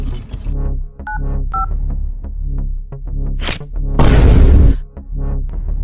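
Several short electronic keypad beeps as a phone number is dialed, under ongoing talk, followed by a loud whoosh of noise.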